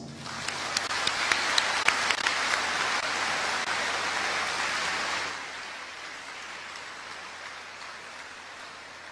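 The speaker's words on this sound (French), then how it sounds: "à nous de lui témoigner notre reconnaissance par ce concert d'applaudissements" An audience applauds at a 2021 UNIFA graduation ceremony, a dense, sustained wash of many hands with a few sharper claps near the front, dropping to a softer, thinner patter after about five seconds.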